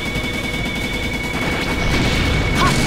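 A mini gun fires in the Mega Man X video game as a loud, unbroken rattle of rapid shots, with a brief electronic chirp near the end.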